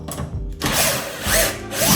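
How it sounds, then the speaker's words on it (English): Power drill working on the handle of a Westinghouse double-door fridge, a loud whirring motor in two bursts separated by a brief pause, with no talk over it. "I just tried to use this drill."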